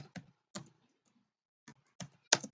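Keystrokes on a computer keyboard, a few short clustered bursts of tapping separated by pauses, close and fairly quiet with no talk.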